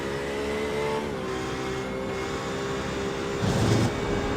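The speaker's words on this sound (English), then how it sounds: "On board Simply Steve, the Porsche RSR number 23 machine" Porsche RSR race car engine from an endurance racing game at Road Atlanta droning steadily at high revs, with a brief louder roar near the end, no voices.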